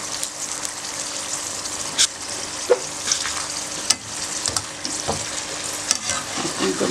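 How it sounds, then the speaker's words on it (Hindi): Mongri pieces fry in oil over low heat with a steady close sizzle, and scattered clicks and scrapes come from stirring in the pan. "बस आपने इनको हल्की आंच पे फ्राई करना है कि इनके अंदर एक क्रिस्प बनेगा"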